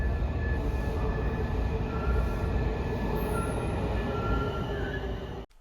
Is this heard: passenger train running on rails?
yes